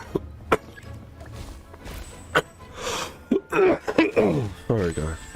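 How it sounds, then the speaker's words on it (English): A person coughs repeatedly, a few sharp isolated coughs followed by a clustered run of harsh throat-clearing coughs, close and loud, with some speech mixed in. "My cough is so bad."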